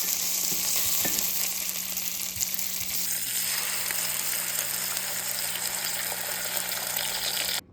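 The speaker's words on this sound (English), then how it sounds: "I just put a little bit of oil in the pan, and then I kind of, not fry them, but I brown them a little bit until they're kind of crispy" Meat browns in a little oil in a pan with a steady, dense sizzle and crackle that holds evenly close by, shifting slightly in tone partway through before cutting off abruptly at the end.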